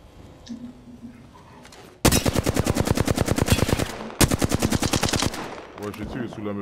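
Rapid automatic gunfire in Apex Legends, two long loud bursts of evenly spaced shots close up, preceded by quieter game sounds and followed by a few more scattered shots.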